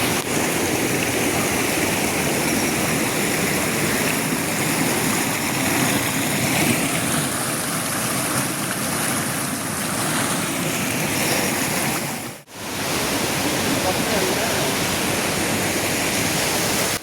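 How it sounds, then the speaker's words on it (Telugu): A steady, loud rush of falling water from Sajla waterfalls roars continuously, broadband and unbroken, with a brief dip near the end. "అలా ఆ వాటర్ సౌండ్స్ వింటూ నెమ్మదిగా అయితే నడుచుకుంటూ"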